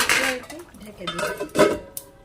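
A metal lid clanks and rattles onto a cooking pot of fish curry in a quick pair of close, bright clinks, with a short final tap.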